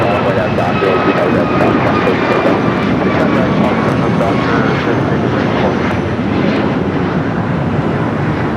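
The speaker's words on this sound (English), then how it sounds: "American Airlines flight 12 heading to Boston in an A321" An American Airlines Airbus A321 jet departs Los Angeles International Airport, its engines a loud, steady roar throughout with no break or fade.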